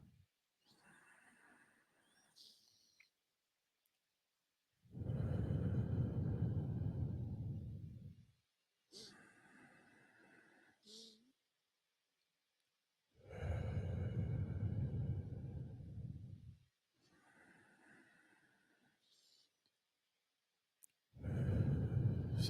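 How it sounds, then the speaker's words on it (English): Slow, deliberate meditation breathing, drawn in through the nose and released out through the mouth, heard as soft breathy bursts alternating with louder, fuller exhalations in a calm, quiet room with no talking. "So we'll start by breathing in through the nose"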